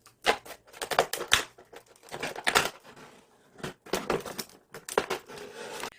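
A plastic PET water bottle is cut apart with repeated crisp crackling, crunching snips in short bursts, close and fairly loud, with brief pauses between cuts.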